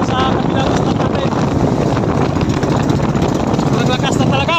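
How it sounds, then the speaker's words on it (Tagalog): Strong wind roars steadily across the microphone aboard a boat at sea near the reefs, a loud, constant buffeting rush with an engine droning underneath and a voice speaking over it. "Naglakas na talaga ng hangin."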